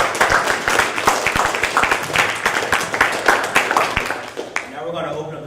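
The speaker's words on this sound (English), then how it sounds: "A round of applause." A crowd claps in a dense burst of applause for about four seconds, then it dies away as a voice begins speaking.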